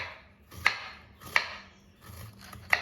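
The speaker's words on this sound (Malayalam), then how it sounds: "ചേനയെല്ലാം നമ്മൾ ചെറിയ കഷ്ണങ്ങളാക്കി വെച്ചിട്ടുണ്ട് ഇനി ഇതിനെ നമുക്കിത് ഇങ്ങനെ അരിഞ്ഞെടുക്കണം" A knife slices elephant yam into thin pieces on a board, giving three sharp, close chopping knocks about two-thirds of a second apart, each with a soft cutting scrape, in a quiet setting without talk.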